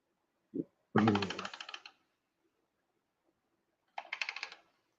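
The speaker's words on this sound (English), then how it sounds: "So you'll hear me hitting my keyboard, tapping the keys." Computer keyboard keys tapped while mouse shading is done on a cover design, a short burst of rapid clicks, a pause, then another cluster of quick taps, close and fairly quiet.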